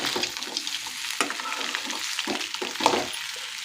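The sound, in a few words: okra (bhindi) frying and being stirred in oil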